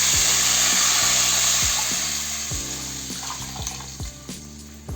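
Water pours steadily into a pot for chicken mandhi rice, a loud continuous splashing stream that thins and fades toward the end, with a mechanical hum running underneath.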